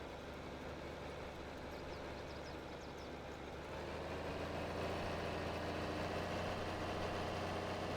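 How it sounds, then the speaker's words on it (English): Loud, steady rumble of a straight-piped tractor engine in a farming simulator game, idling and then swelling to a heavier, stronger drone partway through, with no talk over it. "They got an old straight pipe on that tractor."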